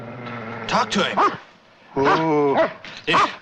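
A dog barks and whimpers in a few short bursts, close by, with someone speaking around the sounds as others try to calm the animal.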